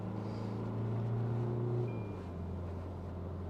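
Engine of an Indian 4x4 SUV pulling steadily under acceleration, its low drone rising in pitch and then dropping as a gear change comes partway through, with continuous road and wind rumble underneath and no voices.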